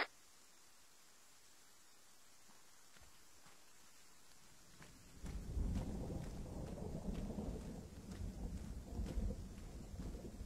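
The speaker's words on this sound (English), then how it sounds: "Really? Zeus lightning?" Lightning strike and rolling thunder in a Halo-style military shooter game, a quiet stretch then a sudden loud crack building into a sustained heavy rumble with crackling bursts.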